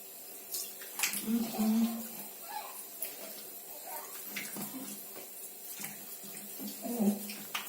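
A sink tap runs gently at low pressure, a soft trickle and splash that comes and goes in quiet bursts while a person speaks nearby.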